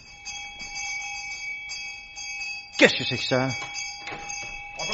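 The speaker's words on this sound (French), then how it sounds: "je fus réveillé en sursaut par une cloche agitée dans le salon" A bell rings with bright, sustained metallic tones, overlapping steady alarm-like ringing, while a voice speaks briefly partway through.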